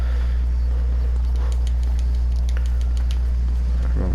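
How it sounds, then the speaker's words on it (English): Steady low engine drone of a car driving in the video game Cuisine Royale, a constant rumble with scattered faint clicks and patter above it, ending in a brief rattle. "There's another car behind me."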